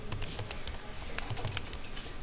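Fast typing on a computer keyboard, close and clear: a dense, continuous patter of key clicks with no voices.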